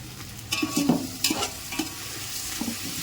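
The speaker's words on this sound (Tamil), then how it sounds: "வெங்காயம் இப்போ நல்லா வதங்கிச்சு" Onions sauté in a pan for mushroom biryani, sizzling steadily while a spoon stirs and scrapes in a few bursts, close and fairly quiet, no talk.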